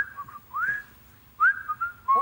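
A man whistles a few casual, wandering notes in imitation of the nonchalant whistling heard from someone in a toilet, delivered as short clear phrases with pauses and no talk between them.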